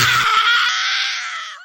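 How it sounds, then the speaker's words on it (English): A woman shrieks from an electric shock after a dial is turned way past halfway, one long, loud, sustained high scream that trails off, close and alone. "The screams came from an unknown lady in the next bed."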